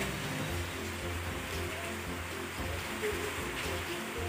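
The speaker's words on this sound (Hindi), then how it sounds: "बारिश हो रही है" Steady, dense hiss of rain falling, constant throughout with no clear pauses, fairly loud and close.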